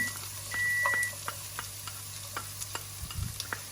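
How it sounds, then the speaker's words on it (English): A short electronic beep from a microwave oven sounds once over a steady kitchen sizzle, with light clicks and a brief clatter. "You heard that beep beep beep, which is the microwave"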